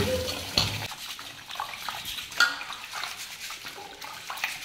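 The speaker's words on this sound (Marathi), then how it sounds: "डायरेक्ट नळाच्या पाण्याने धुवून घेते मी हे." Rice is washed by hand in a pot under a running kitchen tap. Water gushes continuously and close, with sloshing splashes and a few sharper clatters of the grains being stirred.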